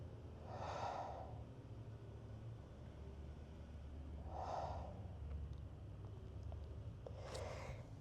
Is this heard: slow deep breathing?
yes